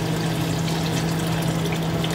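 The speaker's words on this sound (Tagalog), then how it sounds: "Lagyan natin ng tubig na madami" Lots of water pouring into a pot for macaroni soup, a steady rushing flow with a low hum running throughout, close and continuous with no talk.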